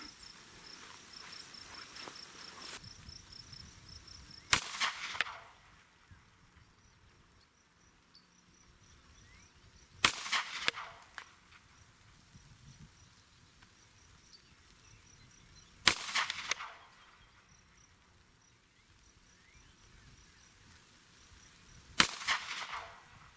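Pistol shots fired at a target from 7 yards on a shooting range, four sharp cracks spaced about six seconds apart, each with a short ringing tail, over a quiet outdoor background with insects chirping.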